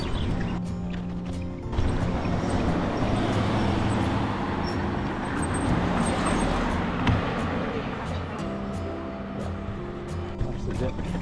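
Cars rolling past a group of cyclists on a road in the Alsace and Rhine area, a continuous near roadway rumble with vehicles swelling and fading, voices talking over it.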